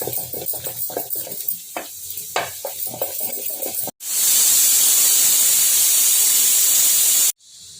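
A sharp, loud hiss of steam bursts out of a pressure cooker whistle while gongura mutton curry cooks, holding steady for several seconds after a stretch of softer kitchen clatter.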